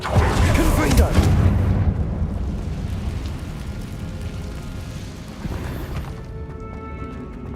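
A Confringo blasting spell goes off in the Hogwarts Legacy video game as a loud rumbling explosion, booming hardest at the start and then rolling away into a long fading roar.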